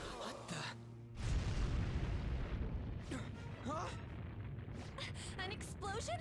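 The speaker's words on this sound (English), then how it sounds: "An explosion? Well, that ain't good." An explosion in the game Persona 5 Royal, a deep rumbling boom that swells and rolls on for several seconds, mixed with game music and brief voice-like sounds.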